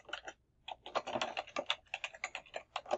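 Brisk typing on a computer keyboard as a new Google Drive folder name is entered, a close, quiet run of rapid key clicks with one short pause near the start.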